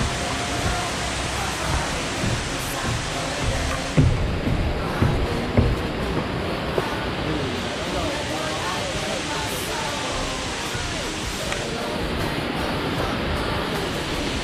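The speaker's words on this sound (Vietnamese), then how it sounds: "Đó, nghe tiếng suối rất đã." A babbling stream flows steadily through a tourist area near Nha Trang, a continuous broad rushing wash of water with a few brief louder splashes or bumps partway through.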